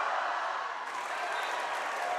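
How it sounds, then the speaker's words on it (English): Rival student cheering sections at a high school basketball game between St. Francis and Bellarmine, a loud continuous crowd roar of shouting and noise filling the gym during a free throw. "as the cheering sections battle it out"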